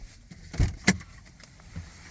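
A parked car being shut off on a sunny day in the Midwest USA, heard as a couple of short mechanical clunks and clicks close by, the second sharper than the first, followed by quiet.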